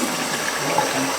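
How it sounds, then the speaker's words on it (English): Water is poured down a clogged urinal, giving a loud, steady rushing splash that runs without a break through the short stretch. "Just about putting water down the urinal."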